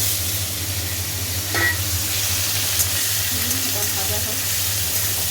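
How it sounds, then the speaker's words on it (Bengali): Potato pieces coated in salt and turmeric fry in oil in a pan with a loud, steady sizzle close up. Occasional scraping and stirring sounds come through, along with a faint low hum. "এই যে মোটামুটি ভাজা হচ্ছে"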